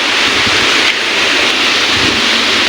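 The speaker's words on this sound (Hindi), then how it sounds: "वैसे भी आंधी चल रही गाइस तगड़ी वाली" A strong dust storm blows outdoors, a loud continuous roar of wind buffeting the microphone with steady broadband rushing and no pauses, heard alone.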